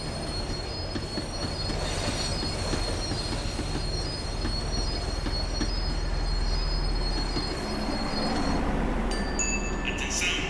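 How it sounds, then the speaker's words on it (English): A tram slowing down in the video game Max Payne 3, a loud sustained metallic wheel squeal over rumbling rail noise and clacking, with high screeching tones rising near the end. "The tram was slowing down."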